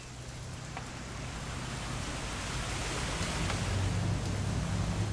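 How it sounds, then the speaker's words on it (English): Steady rain in What Remains of Edith Finch pours as an even, loud hiss that swells slightly over a few seconds, with no voices over it. "It's gonna rain the whole weekend,"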